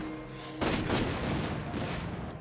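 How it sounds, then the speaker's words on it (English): A grenade launcher fires in the video game Borderlands 2, an abrupt, loud booming blast followed by a second burst that rumbles and tails off. "Yeah, that's my grenade launcher."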